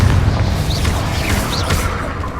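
Confringo explosive spell blasts in Hogwarts Legacy, loud rumbling booms over constant low battle roar with brief whooshing sweeps, dense and continuous throughout.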